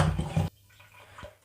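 Potatoes being washed by hand in a pot of water, a brief burst of sloshing and splashing that stops abruptly, followed by quiet dripping and a faint clunk.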